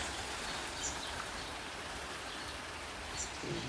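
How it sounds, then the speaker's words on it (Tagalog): Rain falls on a lawn in a steady, fairly quiet hiss that stays unbroken throughout, with no one speaking. "Ayan guys, maulan."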